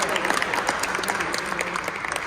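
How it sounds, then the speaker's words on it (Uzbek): An audience at a graduates' gathering breaks into applause, a dense continuous clapping heard up close, with a few louder individual claps and no speech over it. "Qarsaklar"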